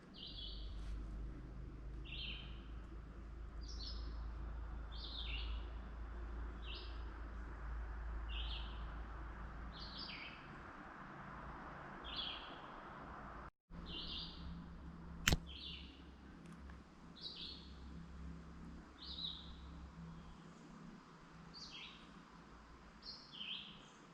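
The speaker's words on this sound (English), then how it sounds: "Very beautiful in here. Birds are singing." Birds sing with short repeated chirping phrases in a hemlock swamp by the Lebanon reservoir in Lebanon County, the calls moderately close over a steady low rumble, with one sharp tap partway through.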